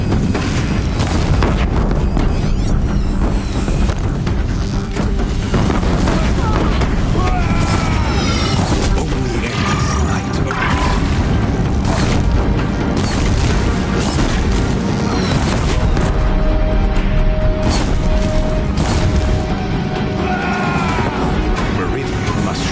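Deathbringer weapons fire and explosions in a video game battle on a crumbling bridge, a dense continuous roar of booms and crashes with layered blasts throughout, loud and close.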